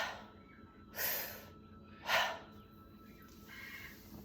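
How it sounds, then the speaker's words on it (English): Deep breathing exercise with two strong, airy breaths in quick succession followed by a softer, drawn-out exhale, close to the microphone in an otherwise quiet room. "keep the rhythm of that deep breath going. And just drop that exhale."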